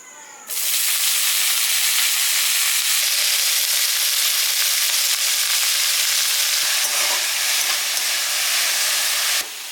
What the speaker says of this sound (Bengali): এইবার শাকটারই তেলের উপরে দিয়ে দেব।